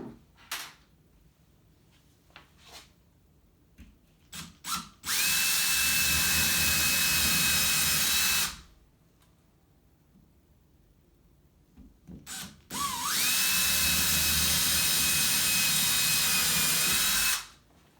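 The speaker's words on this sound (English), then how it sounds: "We'll drill a hole right up there, and we'll drill a hole down here." A power drill whines steadily in two long bursts with a pause between, drilling holes in a wall for a TV bracket, close by, with small knocks and handling sounds before each run.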